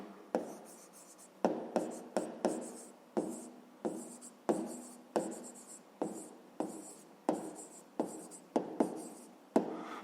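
Pen or pencil writing a fifth-grade math exercise by hand on paper: close, steady bursts of scratchy strokes, about a dozen taps and scribbles in a regular rhythm, with no talk.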